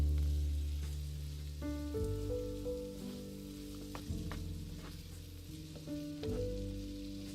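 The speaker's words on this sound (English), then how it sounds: "Saute over medium low heat." Food sautéing in a pan over medium-low heat, a soft steady sizzle with faint crackles, close by and continuous, with no voices.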